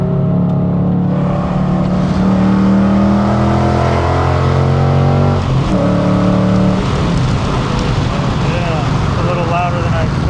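A car engine roars loudly as it accelerates hard, its pitch climbing and then surging again after a brief shift, close and sustained.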